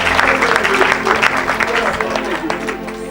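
A church congregation claps and cheers in praise of Jesus, a dense continuous wash of applause with voices mixed in, loud and close.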